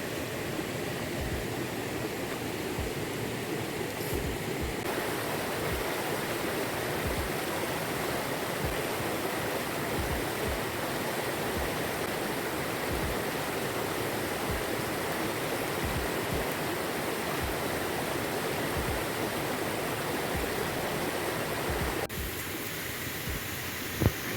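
A hidden river and waterfall in Jamaica rush in a steady, dense broadband wash of flowing water, constant and fairly close, with no talking.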